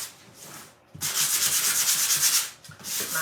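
Sandpaper rubbed over a Dollar Tree wood panel, a brief light scratch, a short pause, then a loud, steady back-and-forth abrasive rasp close up, with no talk.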